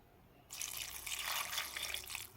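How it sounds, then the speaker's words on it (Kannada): Water is poured into a mixer-grinder jar holding soaked toor dal ingredients for bassaru: a steady, fairly close splashing stream starts suddenly after a brief quiet moment and keeps going to the end, with no voices. "ಸ್ವಲ್ಪ ಇದಕ್ಕೆ ನೀರು ಹಾಕ್ಕೊಳ್ತೀನಿ."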